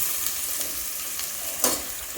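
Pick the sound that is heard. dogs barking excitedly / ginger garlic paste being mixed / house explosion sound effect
ginger garlic paste being mixed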